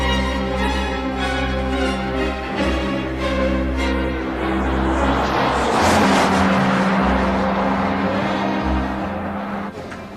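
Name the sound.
Jaguar XJ40 Sovereign car driving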